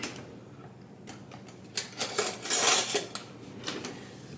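Metal kitchen utensils clink and rattle as a tablespoon is grabbed from among them, a few close, sharp jangles building in the middle of the clip, with no talking.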